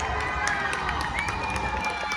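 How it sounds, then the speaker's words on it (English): Student protest crowd outside Sydney Town Hall cheering and shouting loudly and continuously, with a dense wash of many voices and whistles rising through it. "a lot of cheering"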